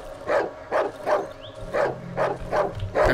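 A dog in the Darkwood video game barking in a steady, rhythmic series of about eight close, loud barks, alone without speech.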